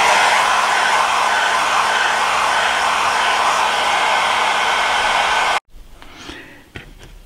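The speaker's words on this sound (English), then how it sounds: "Now I've completely dried the gel medium." A hair dryer blows steadily and loud at close range, drying gel medium painted onto a model railroad clapboard wall, then cuts off abruptly, leaving a few faint handling knocks in a quiet room.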